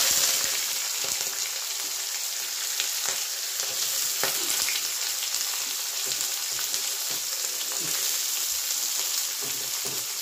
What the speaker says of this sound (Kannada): ಎಣ್ಣೆ ಕಾದಿದೆ ಕಡಾಯಿಯಲ್ಲಿ, ಈಗ ಹಾಕಿದ್ದೇನೆ. ಈಗ ಈರುಳ್ಳಿ ಮತ್ತು ಹಸಿಮೆಣಸಿನ್ಕಾಯಿ ಸಹ ಹಾಕ್ತೇನೆ.